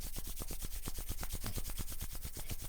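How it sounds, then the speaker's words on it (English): Bare palms rubbing briskly together during a healing prayer, a close, steady run of rhythmic swishing strokes with no other sound. "Rub the palms of your hands together."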